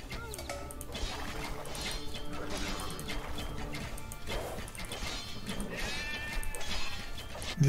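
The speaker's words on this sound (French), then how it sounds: "J'essaie de me ramener ce mouton à la base" Sheep bleat intermittently in Age of Empires 2 DE, short wavering calls mixed into busy game ambience with clattering, mechanical clanks and crashes throughout.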